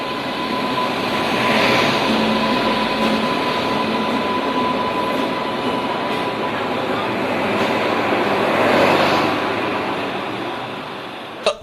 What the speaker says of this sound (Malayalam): ബംഗളൂരു കോയമ്പത്തൂർ ഉദയ ഡബിൾ ഡെക്കർ സൂപ്പർഫാസ്റ്റ് ട്രെയിനാണ് പാലക്കാട്ടേക്ക് നീട്ടുന്നതിന് മുന്നോടിയായി ട്രയൽ റൺ നടത്തിയത്